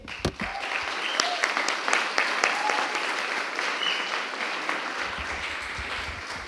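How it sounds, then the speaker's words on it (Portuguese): A church audience claps together, a lively round of applause with a few sharp individual claps and cheers standing out, steady and close, tapering slightly near the end. "Vamos aplaudir as minas?"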